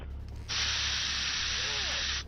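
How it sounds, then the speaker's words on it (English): A single steady spray hiss of about two seconds from a first aid health spray in the zombie survival game SURV1V3, loud and close over a low background hum. "And like one spritz really brings you back from the edge."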